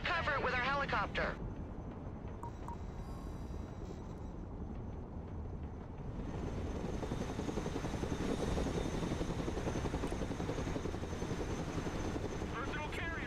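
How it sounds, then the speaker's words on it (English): A heavy Chinook cargo helicopter in the video game Broken Arrow, its rotors thumping and whining steadily throughout, loud and close, with a brief burst of voice and beeping at the start. "Let's go and recover it with our helicopter."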